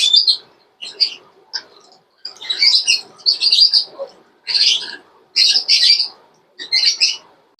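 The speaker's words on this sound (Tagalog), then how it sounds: "Maingay nga rin po itong ating alagang mga ibon mga kanatay." Small birds chirp and tweet in quick bursts, close and loud, with short pauses between clusters of calls.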